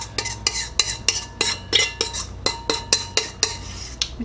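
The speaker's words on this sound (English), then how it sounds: "We'll mix together our topping, which is the 1/4 cup of sugar and 1/2 teaspoon" A spoon or whisk mixes a sugar and cinnamon topping for apple cinnamon muffins in a bowl, giving a steady run of close, bright clinks and scrapes at a quick, regular rhythm, with no talking.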